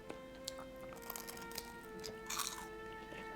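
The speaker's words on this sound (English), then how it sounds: "I don't know if you could hear the crunch" Soft, close crunching from bites into a crisp fried apple pie from McDonald's in Sweden, a few sharp crackles over a low steady hum.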